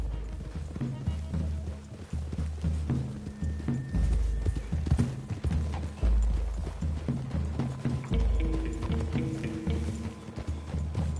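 Horse hooves clip-clopping in a Wild West video game as riders approach a clearing through trees, a steady rhythmic patter under music and game ambience, with occasional whinnies and voices talking.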